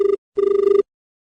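A telephone rings for a farmers' call-in on a radio programme, two short electronic trilling bursts, the second longer, loud and clear with no voices.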